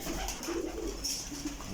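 A pigeon coos softly in a few low, rounded notes against a faint background hiss, with no talking.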